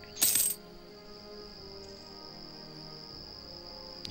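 A single cricket chirps in a continuous high, thin trill that runs steadily in a quiet room, opened by a brief bright metallic clink.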